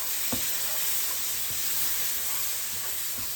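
Tomatoes stirred around in a hot frying pan, a steady close sizzle with a few soft scraping strokes of the spoon running through it.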